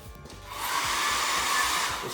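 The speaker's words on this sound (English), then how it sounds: "this hair dryer here," A small travel-sized hair dryer whirs steadily, a loud continuous airy hiss that swells slightly after starting and then holds even.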